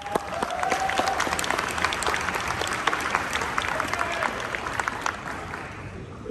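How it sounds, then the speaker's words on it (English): Sustained applause from a conference audience clapping for a panel of tribal leaders, dense and even at first, then slowly thinning toward the end, heard from within the room. "let's give them another round of applause"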